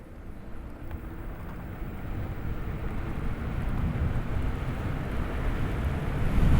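A NIU MQi+ Sport electric moped speeds up at full throttle outdoors, a low steady rush of motor and wind noise that grows louder and heavier over several seconds, with no one talking.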